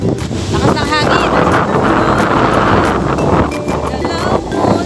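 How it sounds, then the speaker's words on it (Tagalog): Strong seaside wind roars and buffets the microphone continuously, a dense rushing noise with faint voices partly buried beneath it. "Lakas ng hangin."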